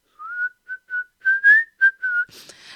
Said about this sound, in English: I don't want to be the one telling you stop whistling, because I love you whistling